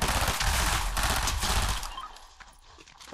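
Sniper rifle fire in the Fortnite video game, a dense, loud burst of gunfire with rapid overlapping shots for about two seconds, then fading to quieter scattered reports, close and without talk.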